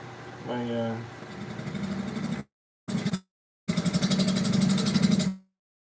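Wood lathe cutting a tenon on a spalted pine bowl: a loud, steady mechanical whir with gritty cutting texture, broken by two abrupt silences and resuming, with brief talk at the start.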